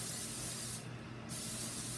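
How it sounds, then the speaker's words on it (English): Cooking spray hisses onto cake pans in a single short burst of about half a second, quiet and close, with a steady low hum around it. "You are going to spray both of your pans with some cooking spray."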